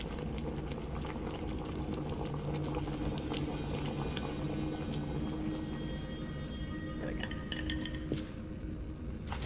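Liquid boils steadily in Amnesia Rebirth, a constant bubbling and patter with faint metallic clinks, moderately quiet and unbroken, with no talking.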